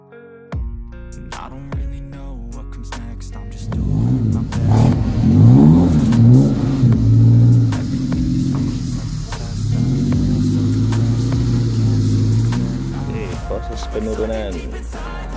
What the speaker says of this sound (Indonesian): Jadi pakai mobil pick up, mobil gundul kayak gini masih oke, aman ya.